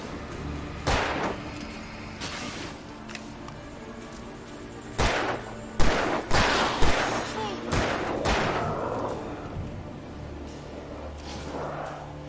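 Gunfire in the video game Alan Wake Remastered: several sharp, loud shots ring out irregularly over a low ambient background, with people talking between the blasts.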